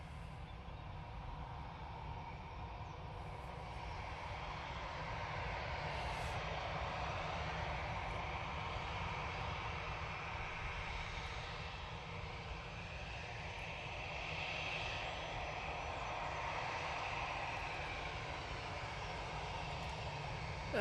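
A Eurowings Airbus A321 jet taxis at Manchester Airport, a faint, distant, steady engine whine and hum with a low rumble, unbroken throughout.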